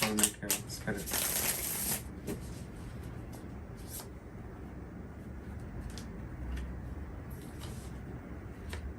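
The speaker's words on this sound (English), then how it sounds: "One more shuffle." A deck of Gustave Doré tarot cards is shuffled up close for the first two seconds, giving loud riffling flutters. Quieter handling and soft background noise follow.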